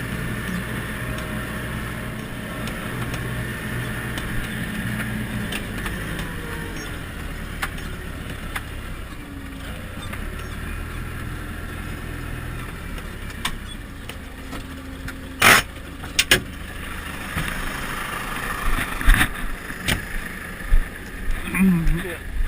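A Landini REX 90F tractor pulling a seed drill through a vineyard, its steady engine rumble running throughout with occasional knocks and rattles from the implement, while someone talks over it.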